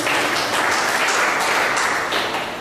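Crowd applause at a gathering of African community groups in Tripoli, Libya, a steady dense wash of clapping from many hands, fairly loud and continuous, with a faint voice underneath.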